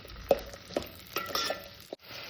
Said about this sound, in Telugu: పచ్చివాసన పోయేదాకా వేయించుకోవాలి పచ్చిమిరకాయలు కూడా